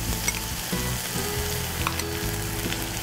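Pineapple, chili peppers and sauce sizzle hard in a frying pan as they are stirred, giving a close, continuous crackle with scraping and clatter of the utensil and no voices.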